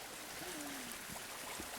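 Clear stream water rushing near Storseter waterfall in Geiranger, Norway, a continuous close flowing roar with faint gurgles, alone without talk.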